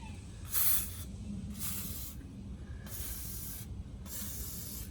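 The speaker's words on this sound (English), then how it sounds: "let me spritz down all the intake valves again" Penetrating fluid sprayed onto an engine's intake valves: four short, close aerosol bursts in an even rhythm, each a sharp hiss lasting about half a second with quiet gaps between.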